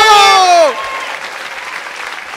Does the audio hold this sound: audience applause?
yes